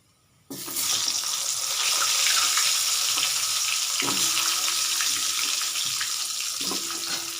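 Potato pieces frying in leftover fish oil after dried chilli and black cumin, a loud steady sizzle that bursts in at half a second and holds, with brief clatters of stirring, no talk.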